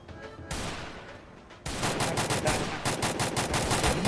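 Automatic gunfire in the mobile shooter Free Fire rattles loudly in sustained bursts, one starting early and a heavier, continuous volley following, close and dense.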